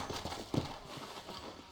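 Horse hooves clip-clop faintly in the Western video game Red Dead Redemption, a few soft, irregular thuds with one firmer step, under low background ambience.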